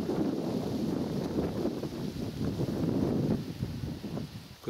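A light spring breeze blows outdoors during a May roe deer hunt. It is a constant low wind rumble buffeting the microphone, steady throughout with slight gusts, and no talk.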